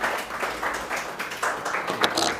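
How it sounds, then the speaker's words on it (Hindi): Audience applause at a student felicitation ceremony honouring selected students, sounding as a steady wash of many hands clapping indoors for a couple of seconds, moderately loud with no voices over it. "एक बार तालियां बताइए"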